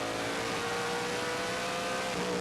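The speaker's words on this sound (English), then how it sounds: "Just drops off the power band as he picks up the throttle again" Stock car engines roar continuously at a short-track race, the TWR Racing Chevrolet among them, a dense, loud, steady drone of several cars under throttle with no clear single rev.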